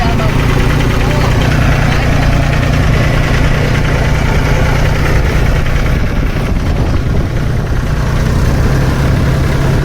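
A loud, steady tractor engine drones close by throughout, a heavy low rumble running continuously through flooded farm fields during heavy rain.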